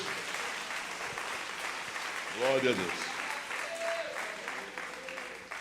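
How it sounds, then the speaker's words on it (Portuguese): A Pentecostal church congregation applauds for Jesus in a sustained, even wash of clapping, with a voice speaking and exclaiming over it. "dê uma salva de palmas bem pentecostal para Jesus"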